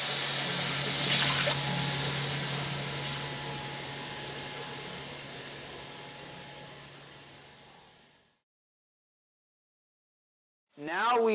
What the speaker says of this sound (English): Now we have switched the water on to the municipal source.